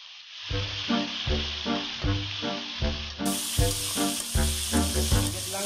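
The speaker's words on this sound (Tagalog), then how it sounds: "Ayan, ilalagay natin, ipiprito natin saglit yung sitaw." String beans (sitaw) sizzling and frying briefly in a hot pan while cooking coconut-milk tilapia, a steady loud hiss with rhythmic stirring scrapes pulsing about once a second, no talking.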